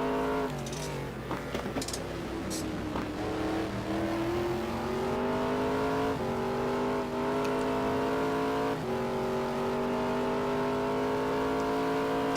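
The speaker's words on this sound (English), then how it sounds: "Alex Scott having to let off considerably on the throttle going through the S's" An engine note from a GT1 race car at Spa-Francorchamps, heard from an onboard position: the pitch drops and rises as the driver lifts off the throttle through the esses, then climbs steadily with loud, continuous revving.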